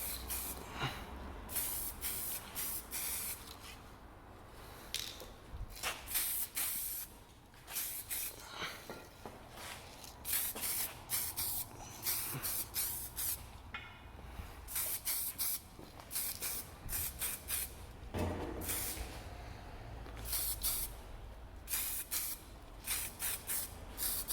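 Spray paint is applied to a non-body part in a series of close, hissing bursts of varying length, with short gaps between passes over a long stretch.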